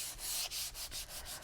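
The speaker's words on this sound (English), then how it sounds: "I'm just using a sanding disc for this." A sanding disc lightly sands painted wood, giving a close, steady scratchy rasp in repeated back-and-forth strokes with brief dips between passes.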